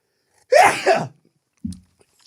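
A single sharp sneeze with a quick inhale and explosive release, followed by a short low murmur.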